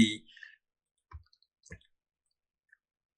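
Two or three sharp, isolated computer mouse clicks sound close by in near silence, working in Blender, after a brief burst of a voice at the start.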